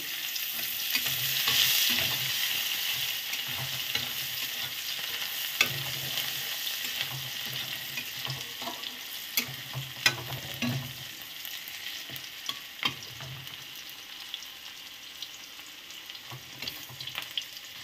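Onion and garlic fry in a pan with a continuous soft sizzle, broken by repeated spatula stirs and scrapes over about eighteen seconds, with no speech.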